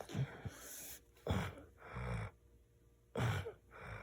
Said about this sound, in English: You can hear that grunt.